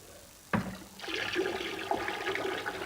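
Victorian tilting-tank water waste preventer cistern on a British lavatory: a sharp clunk as the tank tips, then a sustained rush and gurgle of water flushing and refilling, fairly close and steady.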